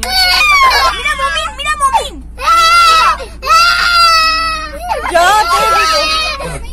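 A young child at a safari park screams and wails in long rising and falling cries, loud and close, broken by short gaps while other voices murmur in the background.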